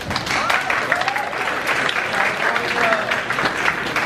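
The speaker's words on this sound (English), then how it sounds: "We big applause." Audience applause at a Vietnamese Catholic parish youth empowerment day in Seattle, a dense, steady burst of clapping from a crowd lasting a few seconds.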